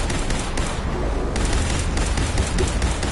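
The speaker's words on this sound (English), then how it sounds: "I made a really OP Institute laser rifle." A modded Institute laser rifle fires in rapid automatic bursts in Fallout 4, a dense, loud barrage of shots with brief pauses, no talking over it.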